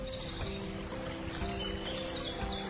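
A river flows beside a forest in an animated fairy tale, a steady soft trickle and pour heard quietly throughout with faint tonal music above it.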